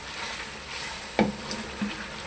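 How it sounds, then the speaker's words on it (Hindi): Chicken kadhi masala roasts in oil in a pan: a low, steady sizzle runs throughout, broken by one brief scrape of stirring partway through, with no talking. "भुनाई कर रहे हैं हम इसकी।"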